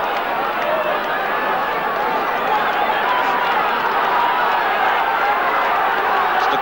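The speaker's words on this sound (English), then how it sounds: "The crowd here, the Donegal supporters really getting behind their team now" Large Gaelic football crowd of Donegal and Monaghan supporters at an Ulster final, a dense, continuous roar of cheering and shouting from a packed stadium, steady and loud throughout with commentary mixed in.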